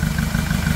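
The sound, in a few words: Hyundai D4CB diesel engine running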